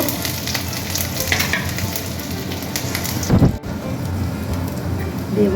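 Chopped garlic and ginger frying in hot oil for a paneer dish, a loud, steady sizzle and crackle with stirring scrapes. A brief clatter comes midway, followed by a short break, and then the sizzle carries on.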